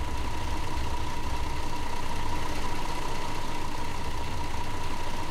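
Engine of a MAN Lion's Coach bus in Fernbus Coach Simulator, a steady low idling rumble with a constant droning hum, even and unbroken throughout.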